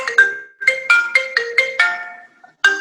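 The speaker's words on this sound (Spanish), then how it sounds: "Ese es el teléfono." A telephone plays a melodic ringtone as a series of bright, evenly spaced tones, clear and fairly loud, pausing briefly before one more tone near the end.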